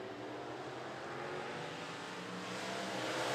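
Race cars lapping a motor speedway track, a steady loud engine roar that swells slightly toward the end, with no talk.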